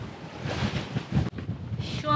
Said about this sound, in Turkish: Burada rüzgar epey bir sertledi.